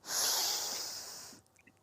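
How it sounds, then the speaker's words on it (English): A deep, close inhale during a guided mindfulness breathing exercise: one loud, airy breath that swells quickly, holds, and slowly tapers off over about a second and a half, then fades into near silence. "Last time, breathing in."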